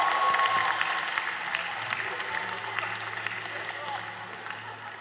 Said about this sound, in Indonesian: tepuk tangan buat Synchronize Festival.